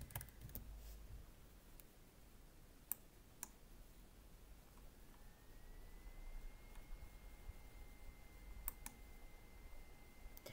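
Light clicking keystrokes on a computer keyboard as a catalogue search is typed, sparse and faint over a low background hiss.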